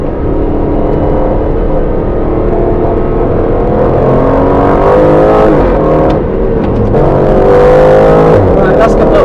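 An Aston Martin Vantage F1 Edition drives fast on the Silverstone Stowe circuit. The engine drone is loud and steady throughout, with pitch sweeping up and down through gear changes, and voices talk faintly underneath.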